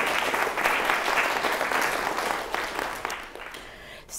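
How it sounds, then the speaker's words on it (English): An audience at a Caltech teaching talk applauds steadily for a speaker, a dense, even wash of many hands clapping that holds for several seconds before thinning slightly near the end. "So let's give Claire a round of applause"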